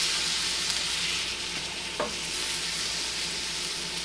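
Slices of French toast fry in butter in a pan with a steady, even sizzle throughout and a brief scrape near the middle as they are moved around.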